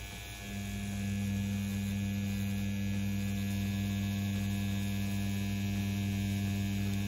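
A CNC P6 tattoo machine runs with a steady, even motor hum, close and continuous for the whole stretch, with no voices over it.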